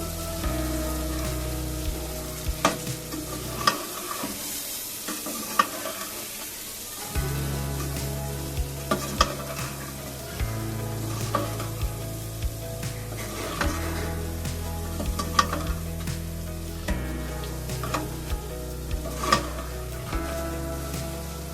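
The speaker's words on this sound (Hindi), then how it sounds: "5 मिनट के लिए इसी मसालों में हम इसे अच्छे से भून लेंगे।" Beef liver frying in spices for bhuni kaleji, a continuous crackling sizzle with repeated stirring scrapes and clinks of the spoon, a low steady hum underneath, with no talking.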